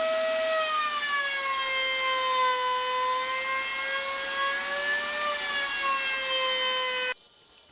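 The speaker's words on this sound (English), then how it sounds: "Here I changed to a router bit with a better profile for some decorative trim." Router with a decorative profile bit cutting trim in scrap wood, a loud sustained high whine with steady overtones that holds for several seconds, then cuts off abruptly near the end.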